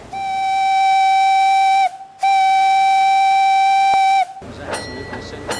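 Steam whistle of the steam narrow boat President on the canal at Batchworth, two long steady loud blasts separated by a short gap, then a brief burst of mechanical noise.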